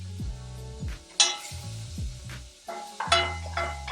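Country fried steak frying in a pan, giving a steady close sizzle broken by stirring and clinking utensil sounds, with no talking.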